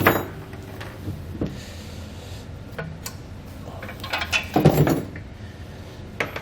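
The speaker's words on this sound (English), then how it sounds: "we'll remove our saddle pins here from either side." Saddle pins are pulled from both sides of a B and W Companion 5th wheel hitch head for a 2020 Chevrolet truck, giving scattered metallic clunks and scrapes, with a heavier clanking rattle midway.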